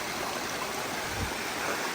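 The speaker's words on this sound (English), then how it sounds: "I thought I'd give you one more mountain stream for the day" A mountain stream along the Appalachian Trail rushes steadily at close range, a dense, even wash of water with no pauses and no voices over it.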